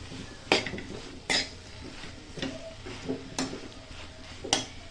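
A spoon stirs onion and coconut paste into a dry fish and brinjal curry, with about six soft metallic clinks against the pot spaced through a quiet background.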